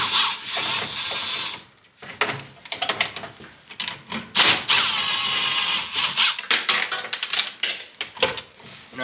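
Socket wrench removing 10mm nuts on a Yamaha 700 SRX snowmobile, close bursts of ratcheting and whirring with metallic clinks and short pauses between, no talking.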